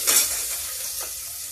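Garlic and onion fry in a pan with a close, steady hiss of sizzling oil and a brief stir near the start.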